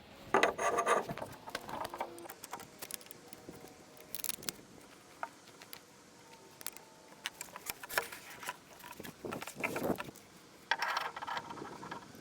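A wrench unscrews the bolts on the legs of a new BTH BP02NA potter's wheel, giving close, quiet, intermittent metallic clicks, ratcheting and scraping with irregular pauses and no talking.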